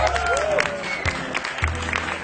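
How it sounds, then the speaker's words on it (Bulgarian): An audience applauds an honoree at the Business Woman of the Year award ceremony in Bulgaria: a brief burst of clapping mixed with background music and tones. "Моля вашите искрени и силни аплодисменти"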